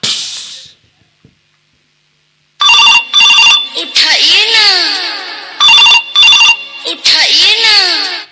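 A mobile phone rings loudly in repeated electronic bursts with a warbling melodic tone, starting after a brief quiet pause, clear and close.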